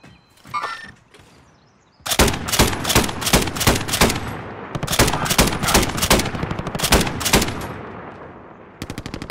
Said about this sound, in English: I popped shots at the guy on the roof, on the top.